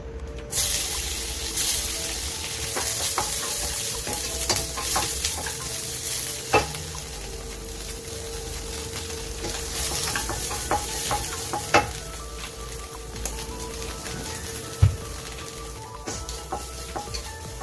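Paneer frying in a little butter in a pan, a steady low sizzle with occasional stirring clinks and scrapes, plus a faint watery hiss in the background.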